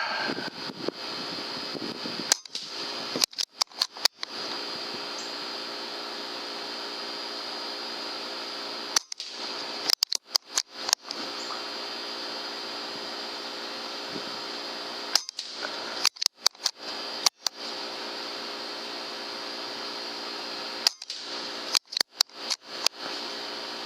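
A .22 Benjamin Fortitude air rifle fires Crosman Premier Copper Magnum pellets of 14.4 grains, sharp cracks spaced a few seconds apart, some shots coming in quick pairs or clusters, over a constant steady background hum.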